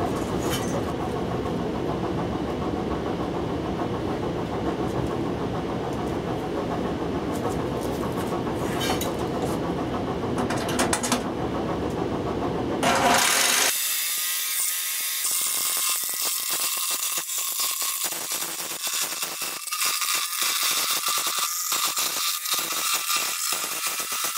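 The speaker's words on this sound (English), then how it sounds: "take a scroll saw with a hack saw blade in it and cut down the middle seam from hole to hole that you just drilled" Scroll saw fitted with a hacksaw blade cutting down the metal seam of a linear slot ceiling diffuser, a loud buzzing rattle from a running machine that shifts abruptly to a harsher, brighter cutting rasp halfway through, with no voices.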